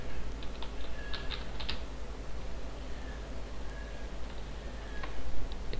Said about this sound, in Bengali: আমরা এখানে টাইপ ওয়েলকাম